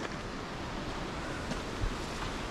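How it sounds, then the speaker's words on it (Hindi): Water gushing under pressure from a burst pipe near a trekking waterfall in Himachal Pradesh, a continuous broadband roar heard up close with no talk over it. "पाइप फटा हुआ है, कितना प्रेशर से पानी निकल रहा है बाहर।"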